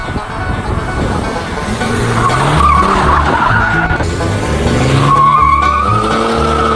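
A BMW 330d E90 driven hard, its tires squealing and skidding over a loud, rising diesel engine roar, close and continuous, with long whining screeches sweeping up and down.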